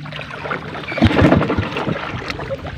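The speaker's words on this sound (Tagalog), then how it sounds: "Ayan, pansamantala, nagsagwan muna." Someone paddles a small boat at sea at night after its engine broke down. The oars make several splashing, swishing strokes close to the microphone, with wind and water noise in the background.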